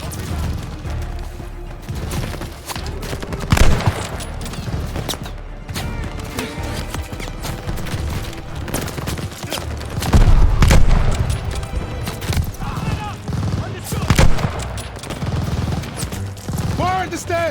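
Gunfire and explosions in the video game Call of Duty Vanguard, with constant bursts of shots and heavy booms peaking loud at several points, mixed under shouted voices throughout.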